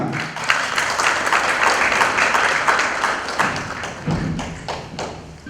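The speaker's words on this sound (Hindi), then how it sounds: "जोरदार तालियां" A crowd applauds steadily for several seconds at a stage ceremony, dense clapping that swells and then tapers slightly near the end.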